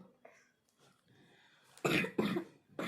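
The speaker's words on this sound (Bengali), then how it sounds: "কাশি দেখ একদম ঘর ঘর করে" A child with a rattly chest cough: soft breathy noises at first, then three loud, harsh coughs in close succession near the end.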